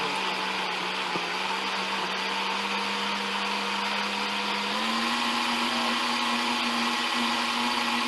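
A countertop blender runs on low, churning smoked chicken tortilla soup ingredients under a glove held in place of its missing lid, a steady loud whir that steps up slightly in pitch partway through, with no talking.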